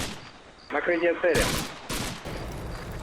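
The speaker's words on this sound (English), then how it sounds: "Our artillery barrage finally comes in at the end of the turn." Artillery barrage in the wartime strategy game Combat Mission: Red Thunder, loud broadband blasts and rumbling impacts arriving in a cluster, with a few sharp bursts over a lingering roar.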